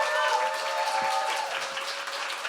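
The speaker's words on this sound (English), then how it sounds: "Can we have another massive round of applause for that?" Audience at a poetry event giving a big round of applause, a dense, steady crowd clapping close by with a faint whistle or held tone early on.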